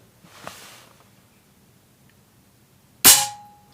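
A single sharp air rifle shot fired during a chronograph velocity test, a loud close crack with a short ringing tail, preceded by faint quiet background rustle.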